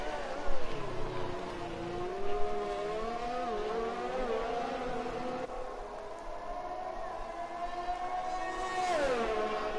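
A McLaren race car on a flying lap in a racing game at the Austria circuit, the engine wailing steadily through rising and falling gear changes, with a couple of sharp shifts and a climbing rev toward the end.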